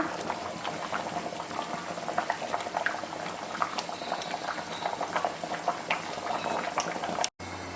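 Water boils steadily over high heat in a pot for blanching noodles, a continuous close bubbling and rolling hiss with small pops, with a brief cut-off near the end.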